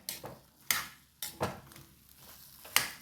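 Star fruit (chambakka) is sautéed in a pan for pickle, with a spoon clanking sharply against the metal four times at uneven intervals and soft stirring and scraping between the knocks.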